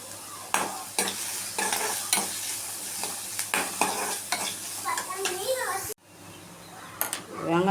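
Onion, ginger and green chili sautéing in a pan, a steady sizzle broken by repeated spatula scrapes and stirring knocks, with a voice speaking over the cooking throughout.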